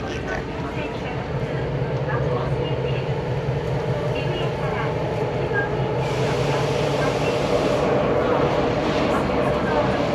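A subway train rolls along in Yokohama with a constant loud rumble and hiss of wheels and carriage, a steady low drone under a brighter rush that swells partway through, while people talk over it.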